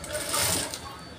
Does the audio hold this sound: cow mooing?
no